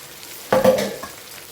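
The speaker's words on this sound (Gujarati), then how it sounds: "મસ્ત મિક્સ કરી લઈએ" A spoon stirs sugar into a dish cooking over a full flame, giving a short scraping, sizzling burst of about half a second against a quiet background.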